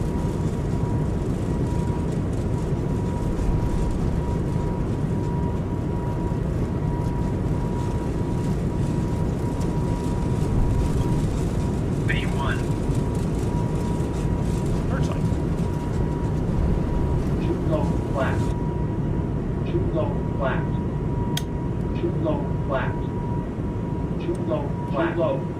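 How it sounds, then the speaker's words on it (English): Breeze Airbus A220 engines at takeoff power during the takeoff roll, a loud continuous roar and rumble heard from the cockpit, with radio chatter and crew voices over it. "that's when the engines really get to their correct takeoff power"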